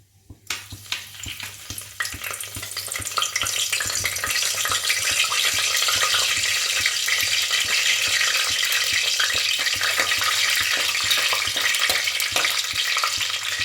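Ingredients sizzling in hot refined oil for chicken biryani, a loud, steady crackling fry that swells in after a quiet start and holds dense and close throughout, with no voices.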